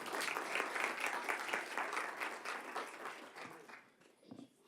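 Applause from an audience at an academic colloquium, a loud, dense wash of clapping that carries on for several seconds before thinning out and fading near the end.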